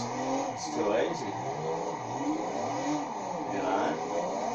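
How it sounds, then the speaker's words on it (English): A car engine in the Assetto Corsa racing game, driven with a G920 wheel on a drift tune, revs and rises in pitch over and over. It sits under a steady background drone, with talk over it. "I shouldn't be revving this car out so hard"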